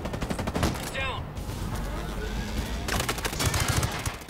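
Rapid bursts of automatic gunfire in Ghost Recon Breakpoint, loud and crackling, pausing briefly before another sustained volley.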